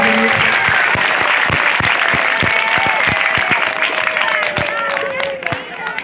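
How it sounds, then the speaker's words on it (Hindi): Crowd at a madrasa function in Khera, Mewat, applauding loudly and steadily, with sharp individual claps standing out over a dense wash of clapping and babble that thins slightly toward the end. "एक बार और ताली बजा"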